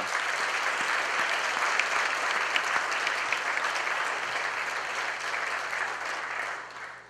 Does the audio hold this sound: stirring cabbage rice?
no